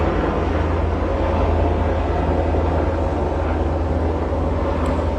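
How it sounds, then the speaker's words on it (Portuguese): A helicopter flies overhead, producing a loud, continuous roar that stays dense and steady throughout with no break. "Depois que esse helicóptero passar."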